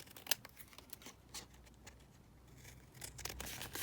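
A paper tag made from 12 x 12 master board being cut with scissors, close and fairly quiet, with short crisp snips and light paper rustling scattered through the few seconds.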